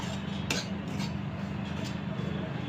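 Metal spoon scraping and clinking against a pan while besan (gram flour) is stirred and roasted for sooji besan halwa, with a few sharper clinks over a steady background hum.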